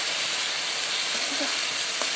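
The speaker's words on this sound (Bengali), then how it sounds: "এগুলার পরে আলুগুলো একটু ভেজে নেওয়া হবে।" Potatoes frying in a pan with chicken make a steady, even sizzle and hiss that stays close and constant throughout.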